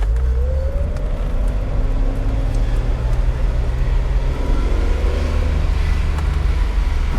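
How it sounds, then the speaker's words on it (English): Six-cylinder engine of a 1976 Datsun 280Z pulling away, a steady low rumble heard from inside the car with gently rising pitch as it accelerates, continuous and moderately loud. "Yeah, it feels like a 6-cylinder."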